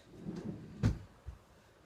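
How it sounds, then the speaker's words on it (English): Dresser drawer in a home slides and bumps shut with one soft thud, preceded by faint rubbing and followed by a quieter knock, all fairly quiet and close. "Stop opening drawers in dresser."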